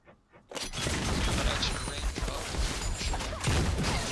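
Tristana's rapid-fire cannon in a video game: after a brief quiet moment, a dense barrage of quick firing bursts and crackling impacts runs continuously to the end.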